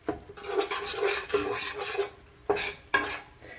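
A spoon scraping and stirring dark roux in a pan for chicken and sausage gumbo, close-up rhythmic rasping strokes with sharp scrapes against the pan bottom, quiet and without talk.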